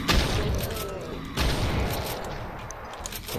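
Shotgun fire in Brutal DOOM with dense, loud, booming blasts over a constant roar of game action and two strong hits, with a voice talking faintly underneath.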